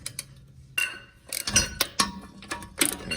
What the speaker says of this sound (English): I can fit a medium-sized ratchet with the 3/4 socket under here.